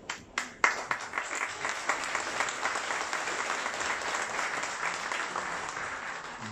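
A crowd bursts into applause after a few sharp claps, the clapping sustained and even for several seconds.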